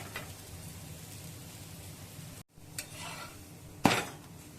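A besan pancake sizzles gently in a pan as it is flipped and roasted on both sides, with a soft constant frying hiss, a brief silence, then a sharp scrape and clatter of a utensil against the pan.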